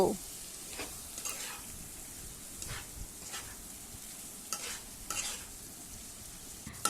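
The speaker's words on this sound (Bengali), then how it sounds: "একই সাথে দিয়ে দেব হলুদের গুঁড়ো এখন এটা ভালো করে নাড়াচাড়া করে কষাতে থাকব" Ground spices with turmeric stirred and sautéed in a hot pan for a ridge gourd and small fish curry, with a steady close sizzle broken by repeated scraping strokes of the spoon.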